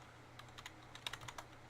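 Light, quick taps on a computer keyboard while a Minecraft cheat command is typed, a short irregular burst of about a dozen soft clicks, close and quiet with no talking.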